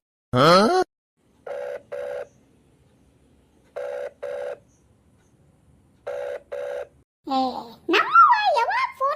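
A telephone ringing back in pairs of short rings, three times over with pauses, the call going unanswered, followed by a voice and giggling at the end.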